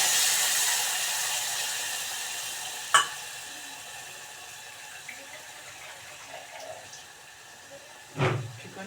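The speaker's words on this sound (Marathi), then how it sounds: "थोडा तर ह्या स्टेजला मी पाणी टाकणार आहे भांडं धुवून मिक्सरचं" Water splashes and trickles into a pan of frying chicken gravy for dum biryani, with faint sizzling throughout, a sharp clatter near three seconds and a louder pouring burst near the end.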